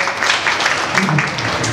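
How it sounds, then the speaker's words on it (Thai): Audience applause at a charity photography exhibition event, a brief burst of many hands clapping steadily, with some voices mixed in. "ขอเสียงปรบมือให้พี่กิมแล้วก็พี่ป๊อกหน่อยครับผม"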